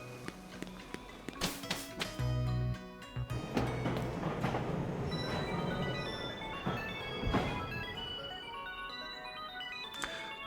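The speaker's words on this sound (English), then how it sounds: "The train of all armor has arrived." A train arrives in the video game Pokemon Shield: a bright chiming jingle and clanking mechanical hits, followed by a sustained rumbling roll as it pulls in, loud and close.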